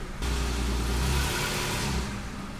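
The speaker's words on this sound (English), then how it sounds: "put her in drive, and give it a little gas here" A Toyota Tacoma truck engine with a new manifold and converter, in drive, revs up loudly and steadily, a low mechanical roar that holds for a couple of seconds and then eases slightly.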